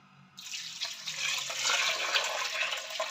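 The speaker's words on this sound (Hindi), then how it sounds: "अब इसमें डालेंगे पानी" Water pours steadily into a wok holding washed lentils, a broad rushing splash that begins abruptly and continues close and fairly loud with no talk.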